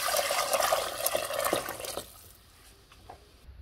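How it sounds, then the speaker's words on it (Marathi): Water poured into a pot of spiced village-style black mutton masala, a loud steady splashing rush for about two seconds that then drops to a faint liquid trickle with small scattered drips. "आता ह्याच्यात आणि पाणी थोडं ओतून घेऊ।"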